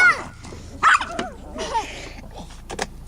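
Spike, a pet dog, gives a few short sharp barks and yips in a backyard near a shed, close by and fairly loud, with brief gaps between bursts and some background voices.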